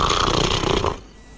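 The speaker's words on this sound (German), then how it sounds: "Ja, da war doch eben ein Schnarcher dran." An elderly man snores over a phone line, a loud rasping, congested snore that fills the first second before dropping into near silence.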